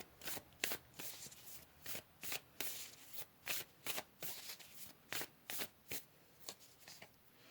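Tarot cards being shuffled and pulled: a steady series of about a dozen crisp riffling bursts at a regular pace, close and clear, with no voice over them.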